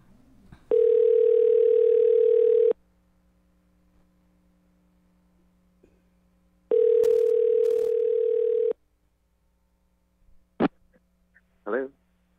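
Recorded telephone call tones, likely a Guam number: two long steady ringback tones a few seconds apart, then brief clicks and a faint voice near the end.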